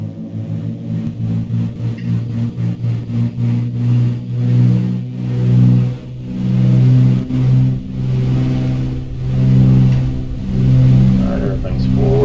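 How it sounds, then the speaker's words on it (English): Twin piston engines of a Beechcraft Baron B58 in X-Plane 11 during takeoff, a loud droning hum that rises and swells in pulsing waves, with a voice talking over it at times. "we're going to take off here, and we'll see what happens"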